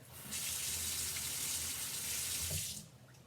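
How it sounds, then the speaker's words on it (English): A rubber stamp rinsed under a running sink tap, a steady close gush of water lasting a few seconds before being shut off. "Okay, I'm gonna rinse this out, you guys."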